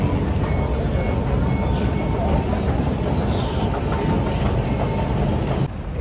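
Hong Kong MTR train interior with a steady, loud rumble of rolling carriages and a faint squeal, while a voice talks over the noise throughout.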